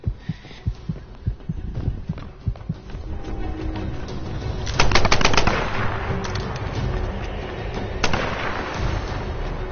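An AK rifle fires in Tomb Raider multiplayer: rapid automatic bursts crackle throughout, swelling into a louder, denser volley midway and another burst near the end, with no talk.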